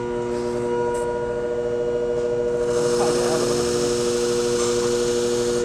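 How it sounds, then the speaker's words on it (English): A shear blade is deburred against a sharpening wheel spinning at moderate speed, a steady motor hum with tonal whine, then a brighter grinding hiss swells in partway through. "and now I'm gonna deburr it."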